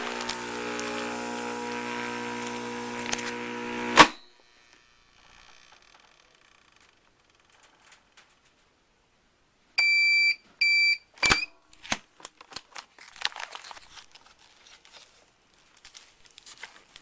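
A vacuum sealer machine sealing a bag of beans runs with a steady motor hum that cuts off abruptly, then after a quiet pause come short electronic beeps and scattered clicks and rustles of the bag.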